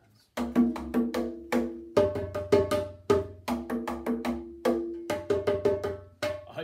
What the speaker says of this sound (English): We get our fingers and we actually hit the drums with the ridge of our fingers like this.